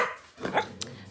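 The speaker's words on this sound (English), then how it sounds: "Not sure why my dog's barking." A single short dog bark, fairly faint and indoors, lasting only a moment.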